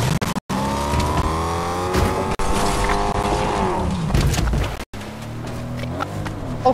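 In a video game, a car engine revs hard with a loud, harmonic whine that sags in pitch, mixed with skidding noise. Several abrupt brief dropouts break it up before the engine picks back up.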